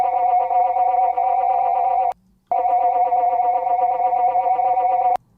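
A clean, steady FM synth tone made from the impact of a feedback-driven drum loops in two sustained stretches, separated by a short gap. Its buzzy pitch stays constant with a slight wobble and it cuts off sharply, with no voices.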